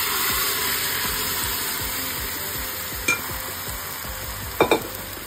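Boiled potatoes with salt and turmeric fry in hot oil, giving a steady close sizzle with rhythmic stirring scrapes and a couple of sharp utensil knocks near the end.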